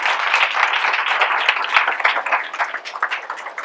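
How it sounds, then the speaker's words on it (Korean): Audience applause fills a book talk event hall, with dense, steady clapping from a crowd that continues evenly throughout without a break. "큰 박수로 가져주십시오."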